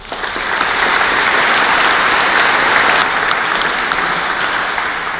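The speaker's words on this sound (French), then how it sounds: "Je propose que nous les applaudissions" Steady, full applause from an assembly audience at a closing ceremony in Paris, dense and sustained throughout, rising quickly at the start and tapering slightly toward the end, with no voices above it.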